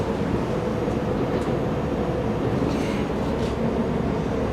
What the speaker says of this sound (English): Family train ride.